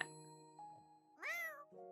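A cat in The Sims video game gives one clear, rising-and-falling meow midway, set among soft, steady chime-like game tones.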